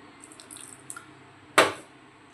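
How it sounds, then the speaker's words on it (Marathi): Water is poured into a bowl of dried Bombay duck fish marinating with lemon juice. A single short splash comes after a few faint drips, with no talking. "आता आपण थोडंसं पाणी ॲड करूया।"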